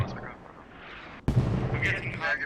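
A heavy mortar impact in the video game Squad, one sudden booming blast midway through, with a voice talking before and after it.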